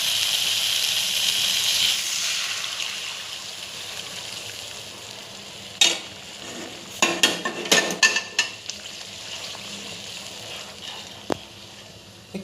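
Hot water goes into a pan of mustard fish curry on the stove, starting with a bright sizzling hiss that fades into a low simmer, then sharp clinks of a spoon against the pan.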